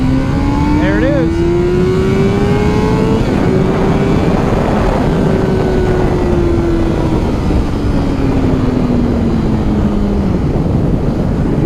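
A 2009 Honda CBR600RR sport motorcycle accelerates hard under a rider, its loud engine whine climbing and then easing over several seconds, with constant wind rush throughout.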